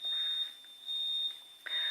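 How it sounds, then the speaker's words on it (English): While one stick of sage burns, a smoke alarm gives steady, fairly faint high beeps in a continuous pulsing pattern with no talking. "that alarm is going off and I'm only lighting one sage"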